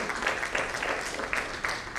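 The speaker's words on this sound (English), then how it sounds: "Can I have a big round of applause for Mr. Chakraborty?" An audience at a financial services conference event gives a round of applause, a steady patter of clapping hands with a few sharper claps standing out.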